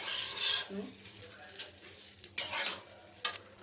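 Rice frying in a pan for pulao, stirred with a few soft scraping strokes over a faint sizzle, quiet and close.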